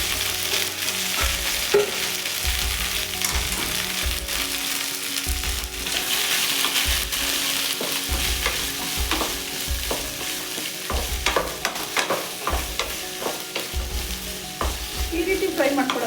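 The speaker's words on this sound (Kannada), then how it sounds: "ಬಾಣಲಿಗೆ ಹಾಕೋಬೇಕು. ನೀಟಾಗಿ ಫ್ರೈ ಮಾಡ್ಕೋಬೇಕು." Okra pieces are fried in a little oil in a pan, a continuous loud sizzle with regular rhythmic scraping of a spoon stirring through the pan throughout.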